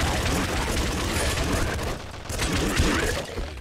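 SMG fire in the video game Nuclear Throne, a dense, loud, continuous rattle of rapid shots with a brief dip before the barrage resumes.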